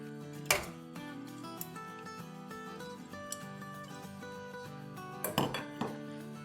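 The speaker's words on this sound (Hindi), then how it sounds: "तो अब इसको हम डाल देंगे अपने पैन में।" Small chicken boti pieces, about 700 grams, go into a pan, giving a few sharp clinks and knocks over steady background music in a home kitchen.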